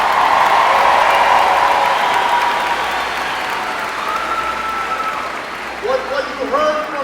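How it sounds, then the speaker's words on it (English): Crowd applause at a political rally in Milwaukee, a loud, dense roar of clapping and cheering that gradually eases, with voices calling out over it toward the end. "give Mark a big round of applause for the great job he's doing."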